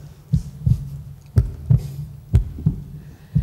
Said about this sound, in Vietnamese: tim đập thình thịch